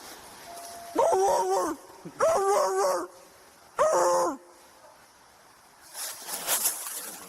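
A police officer imitates a dog, giving three loud, drawn-out barks with pauses between them to scare fugitives, followed by a short burst of rustling noise.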